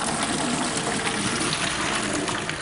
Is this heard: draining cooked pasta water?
yes